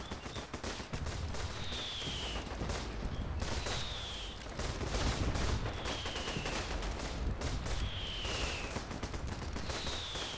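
Sustained artillery barrage in the trench-warfare video game Running in the Trenches, dense overlapping booms and crackling gunfire rolling on continuously, with a whistling shell streak recurring about every two seconds, no voices.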